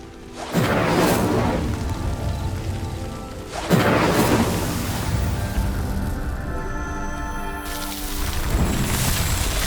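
In Hogwarts Legacy, an Incendio fire spell sets a pyre burning, heard as three whooshing surges of crackling fire, each one roaring up and then rustling on. The sound is loud and steady, with no talk.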